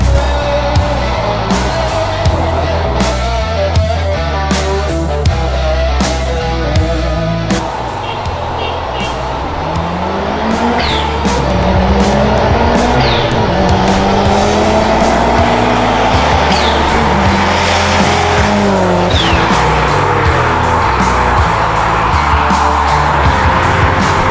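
Car engine revving hard and accelerating fast in sport mode, loud and close, with rising engine pitch sweeps, a brief rough tire noise and short bursts of voices over it.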